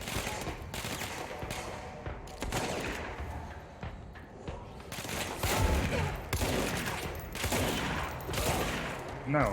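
Rapid bursts of gunfire from a powerful, ammo-hungry weapon in the video game Control, loud and dense with overlapping shots and game effects throughout.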